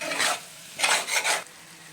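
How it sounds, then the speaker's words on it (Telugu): Eggs stirred into an onion curry in a pan, two or three scraping swirls of a utensil against the pan with a faint sizzle, close and fairly loud. "ఇలా మొత్తంగా కలుపుకోవాలి ఎగ్స్ అంతా కూడా."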